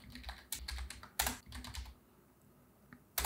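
Computer keyboard typing in short bursts of clicky keystrokes, pausing briefly between runs, close and clear with no talking.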